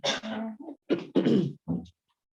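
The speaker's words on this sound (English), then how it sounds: "I'll be clearing my throat a lot" Several raspy throat-clearing bursts in quick succession, close and fairly loud, with short pauses between them.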